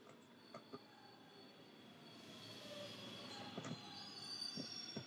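A train in the video game Bendy and the Dark Revival passes at a faint level, its wheels squealing on the rails in a rising metallic screech mixed with low rumbling and a few sharp clacks.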